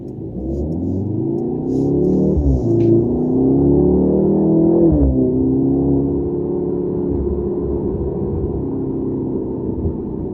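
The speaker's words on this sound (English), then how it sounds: "It does some of the blips on the rev matching downshifts." The four-cylinder engine of a Mercedes-AMG C43 with a 9-speed transmission revs loudly up close, its pitch rising and falling through gear changes with quick rev-matching blips on downshifts.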